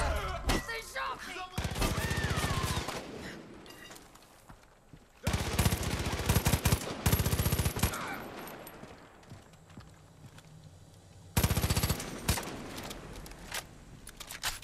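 Gunfire in the video game Far Cry 5, with loud rapid bursts of shots in several separate clusters between quieter stretches of game noise.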